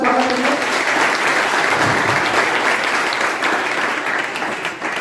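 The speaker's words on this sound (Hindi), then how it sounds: "इसलिए सर के लिए जोरदार तालियां स्वागत करिए।" Loud, dense applause from an audience at a college orientation program welcoming a staff member, a continuous wash of clapping that holds steady throughout and eases a little at the close.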